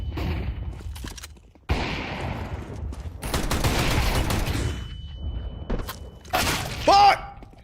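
MAG-7 shotgun blasts ring out in a Counter-Strike match, several loud, sharp shots in separate bursts mixed with other game effects, and a player talks briefly.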